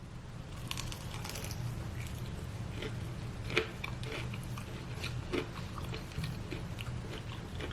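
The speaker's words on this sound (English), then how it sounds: "This one nice and crunchy and crispy." Crispy fried chicken is bitten and chewed up close, with quiet repeated crunches and a few sharper cracks, plus soft mouth sounds between them.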